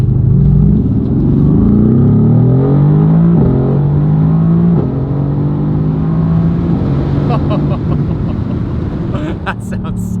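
A car engine revs hard from inside the cabin with the windows slightly cracked, a loud, continuous roar that climbs and drops through several gear changes, with a brief clatter at the end.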